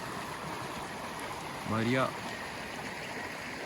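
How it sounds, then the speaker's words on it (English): A river flowing a few meters from a waterfall on a nature trail gives a steady, broad rushing wash throughout, with a brief spoken remark over it. "we are at the river again, like a few meters from the waterfall"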